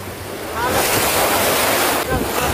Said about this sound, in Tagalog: Hindi talaga malalaki yung alon, yung liliit lang.